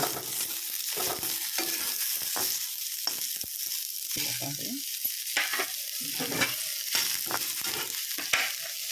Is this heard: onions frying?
yes